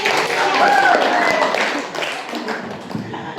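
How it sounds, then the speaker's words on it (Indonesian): A classroom of students claps for a classmate, a short burst of dense, brisk applause that fades over a few seconds, with a teacher's voice and chatter mixed in. "Tepuk tangan buat Ardi"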